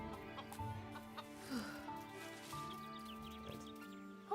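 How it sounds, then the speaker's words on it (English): Chickens clucking in the video game El Hijo, soft and steady against a quiet game soundtrack that holds sustained musical tones. "Avoid that guy feeding the chickens. Yeah. You also kind of need to avoid the chickens themselves."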